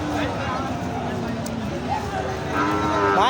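Bulls moo repeatedly at a cattle market before Qurbani, against a busy background of crowd noise and chatter, with a louder, drawn-out low call near the end.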